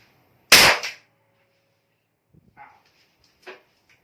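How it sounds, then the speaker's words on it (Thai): A blank-firing rifle is test-fired, giving one sharp, loud report up close, followed by a few faint mechanical clicks and handling sounds. "ทีนี้ผมมาทดสอบจริงละสามนัดนะครับกับตัวแรกนะ"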